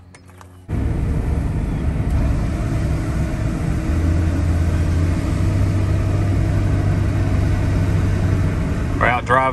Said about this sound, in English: We're out driving the OBS Chevy.